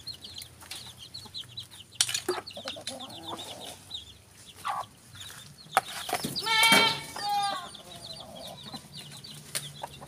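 Farm chickens and chicks scuffle over feed scattered with coconut leaves, giving clucks, squawks and sharp peeping calls nearby, with one louder burst of agitated clucking midway and rustling between calls.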